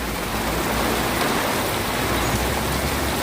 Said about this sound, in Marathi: जोरदार पाऊस सुरू झालेला आहे कर्जच्या परिसरात